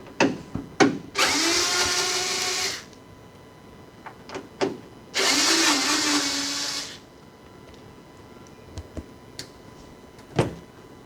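A power driver spins screws out of the interior of a 1986 Porsche 944 Turbo under restoration, with two whirring bursts of about two seconds each separated by clicks and small handling knocks.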